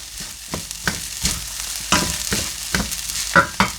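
A spatula scrapes and tosses Chinese sausage fried rice in a hot pan with pepper, a rhythmic series of close scraping strokes over a soft sizzle.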